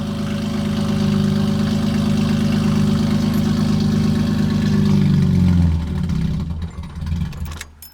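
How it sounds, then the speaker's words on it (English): A BMW M3 GTR engine idles with a steady low rumble that sags and fades out as it dies, close and alone. "it idles for like 10 to 20 seconds and then it dies."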